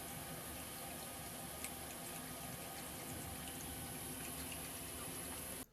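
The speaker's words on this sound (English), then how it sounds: "Chris is drinking water from the tap." Tap water runs steadily as someone drinks from a faucet, a continuous even wash of flowing water with no speech, ending abruptly.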